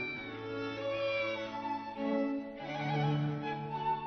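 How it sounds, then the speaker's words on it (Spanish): A cat meows in a drawn-out, tonal series of calls over about four seconds, moderately close and alone, with no talking. "Aquí está el gato."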